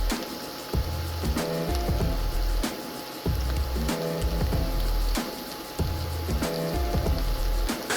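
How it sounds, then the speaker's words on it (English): About four large portobello mushrooms sauteing in oil in a pan, a steady close crackling sizzle broken by repeated sharp knocks and scrapes of a utensil stirring them. "We're gonna saute these down"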